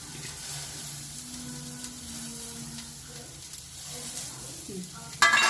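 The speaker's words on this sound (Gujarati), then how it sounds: "પછી જો ફ્રેન્ડ, આપણે તૈયાર કરેલી ટિક્કી છે તેને આપણે શેકવાની છે, લોઢીને એકદમ થવા દેવાની છે।" Millet flour and mixed greens tikki sizzles on a hot iron griddle with a soft, steady frying hiss, ending in a brief louder clatter.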